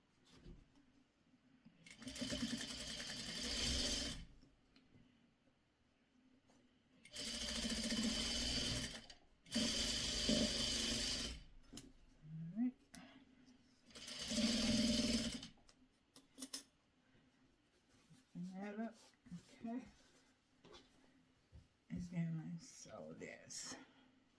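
Sewing machine stitching down quilt fabric from pre-cut Christmas tree quilt kit pieces, running in three loud sustained bursts of a few seconds each, with quiet pauses and soft speech between them.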